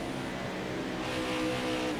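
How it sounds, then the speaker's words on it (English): Race cars from the NASCAR Heat 5 video game roar steadily as one passes on the outside, a continuous engine drone with rising intensity toward the end, no talking over it. "Clint Boyer going past on the outside."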